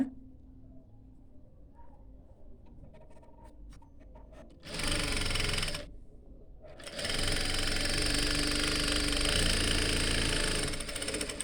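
A sewing machine stitches a folded hem in two runs, first a short burst of fast whirring, then a brief pause and a longer steady run, with quiet fabric handling and light clicks beforehand.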